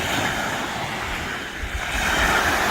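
Surf rolls steadily onto an empty beach on a cool day, a continuous broad wash of breaking waves mixed with wind buffeting the microphone, fairly loud and with no voices.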